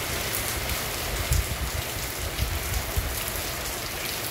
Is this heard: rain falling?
yes